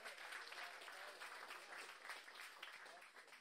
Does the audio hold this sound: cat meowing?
no